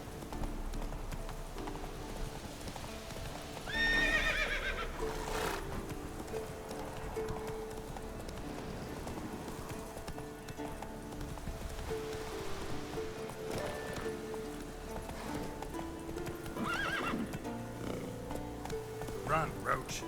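Horse hooves clip-clop at a steady pace in The Witcher 3, with the horse Roach giving an occasional neigh, while someone talks over the game sound and background effects.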